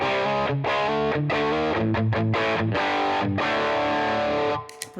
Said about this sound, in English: Let's see with the distortion back.